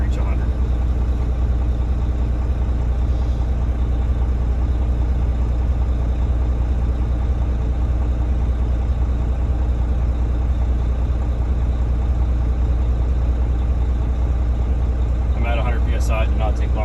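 Steady low diesel idle of a truck or bus at standstill while its air brake pressure builds, a continuous even rumble throughout with a short hiss or rattle near the end.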